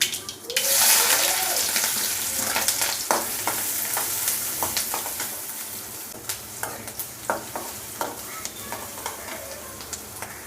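Curry leaves and green chili fry in hot oil for egg poriyal, a steady loud sizzle that bursts up at the start, then crackles on with scattered pops and the scrape of stirring, with no voices.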